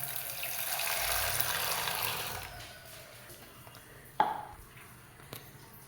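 Water pours steadily into a cooking pot while a hair dye mixture is prepared, a broad rushing flow that tapers off after about two seconds. A sharp clink and a light tap follow in the quieter tail.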